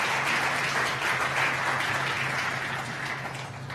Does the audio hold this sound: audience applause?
yes